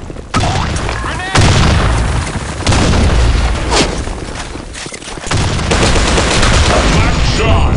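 In a video game, a grenade explosion and gunfire go off as a string of loud booming blasts and shots, each decaying into a dense rumbling wash.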